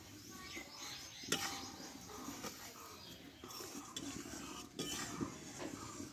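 A utensil stirs thickened, reduced milk in a pot for lachha semai, producing soft scraping and clinking against the pot's sides in irregular strokes, faint and close.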